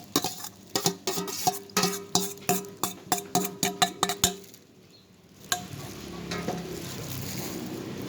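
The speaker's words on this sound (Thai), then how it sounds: "หมูที่เรา ลวนไว้นะคะ หนังหมูแล้วก็หมูสับใส่ลงไปเลยนะคะ" Pork skin and minced pork stir-fried in a pan for a northern Thai salad, with a run of sharp rhythmic spatula scrapes and knocks over sizzling, then a softer continuous sizzle.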